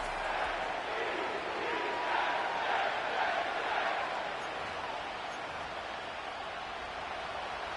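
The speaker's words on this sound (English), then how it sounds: "The crowd is alive" A large stadium crowd in Madden 25 roars and cheers steadily at an NFL playoff game, a dense, continuous wash of noise that holds at a constant level throughout.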